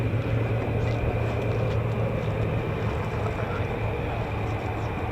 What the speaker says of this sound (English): F-15E Strike Eagles, these are the 494th Fighter Squadron